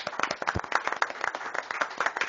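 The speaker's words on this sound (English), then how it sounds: "she deserves a big round of applause for that" Clapping at a Baker City council meeting, a steady patter of hands from a modest group in the chamber, moderately loud and continuous for a couple of seconds with no talk over it.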